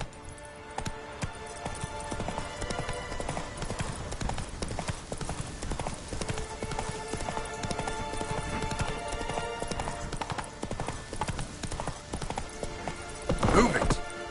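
Horse hooves galloping in The Witcher 3 video game, a continuous fast clip-clop over game ambience, with a brief louder snort or whinny near the end.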